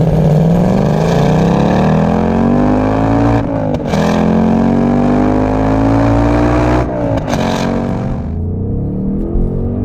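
A Ford Mustang Mach 1 engine roars loudly and close, its pitch climbing steadily through the revs. Two brief gear-change dips break the pull before it settles at a lower, fading tone near the end.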